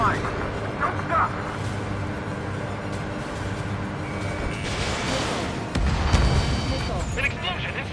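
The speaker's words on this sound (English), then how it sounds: "An explosion inside!" Explosions and gunfire in the combat flight video game Ace Combat 7 Skies Unknown, with deep booms and rumbling blasts rising over continuous engine and battle noise, and radio voices speaking over it.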